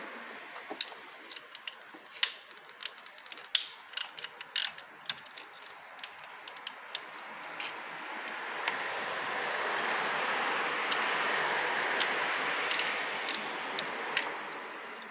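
A ratchet clicks rapidly in short runs while undoing Torx Plus 20 bolts on a Volvo V50 Powershift dual-clutch gearbox, then a steady hiss of background noise rises in the latter half.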